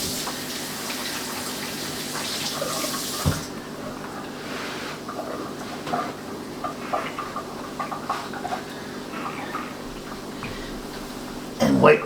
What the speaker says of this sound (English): I'll just rinse my hands.